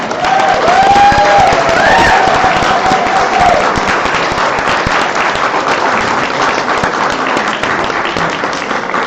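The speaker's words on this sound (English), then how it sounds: "give the panelists a round of applause" Loud, sustained applause from a large crowd at an ACLU annual meeting, steady clapping for a panel filling the room with a brief tonal sound near the start.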